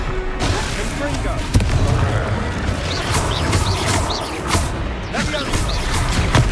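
A blasting spell from Hogwarts Legacy going off in a busy fight, a dense roar of booms, crashes and whooshes with a sharp bang near the start.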